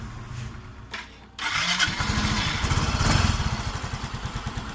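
A Honda Soul GT 125 motorcycle engine with a fault catches and settles into a steady, close idle, a low rapid putter that carries on evenly after a brief quiet start.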